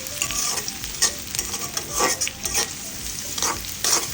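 Chopped onions sizzling in hot oil in a pan while a spatula scrapes and stirs them, a steady close frying hiss broken by irregular scraping strokes.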